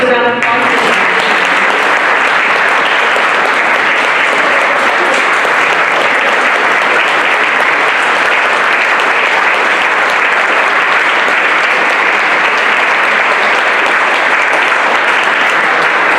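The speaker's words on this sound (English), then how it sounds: "So let's give another round of applause." Sustained audience applause in a hall after a public event about an Emergency Act civil suit in London, Ontario, a loud, dense wash of clapping that holds steady throughout.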